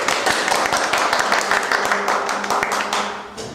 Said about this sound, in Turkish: Alkış. Alkış.